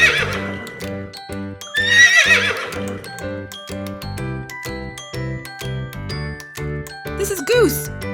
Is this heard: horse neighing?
yes